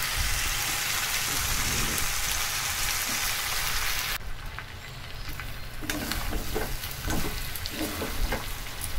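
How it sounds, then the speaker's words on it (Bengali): Desi chicken curry frying in oil in a pan near its end stage of cooking, a steady dense sizzle running loud throughout, softening briefly midway before resuming with scattered crackles and stirring scrapes. "মাংসর গা দিয়েও তেল ছেড়ে দিয়েছে, নিচে লেগেও যাচ্ছে মাংসটা"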